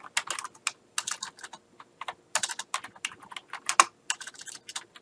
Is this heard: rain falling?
no